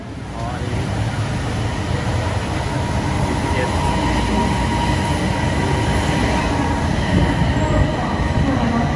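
Steady rumble of a driverless train in motion in Thailand, heard from inside a carriage, wheels and rail noise constant throughout, with people talking faintly underneath.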